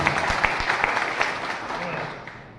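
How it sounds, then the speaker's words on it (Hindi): Enthusiastic clapping from a crowd welcoming guests at a networking business meeting in Saharanpur, dense and even for a couple of seconds before tapering off toward the end. "बाहर से आए लोगों का स्वागत करते हैं एक बार जोरदार तालियों से"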